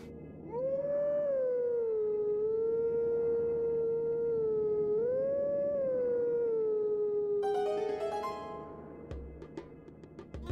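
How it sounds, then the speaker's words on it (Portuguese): A wolf howls in the video game The Legend of Zelda: Twilight Princess HD, two long sustained wavering howls close up, then a short burst of chiming game music. "Tem que uivar de novo"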